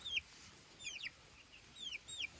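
Young chickens in a wire mesh enclosure giving several short, high chirping calls in small scattered bursts, faint and alone against quiet background hiss.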